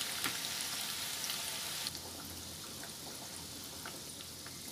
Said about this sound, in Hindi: इसलिए आपको इसे मंदी आंच में ही गोल्डन ब्राउन होने तक फ्राई करना है